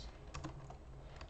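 A computer keyboard clatters under quick, light keystrokes, a short burst of typing in a document heard close up and fairly quiet, with no talking.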